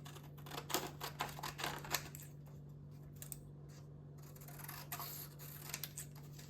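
Paper being cut for a craft page, heard as a series of quiet, irregular snips and crisp clicks, close by, over a steady low hum.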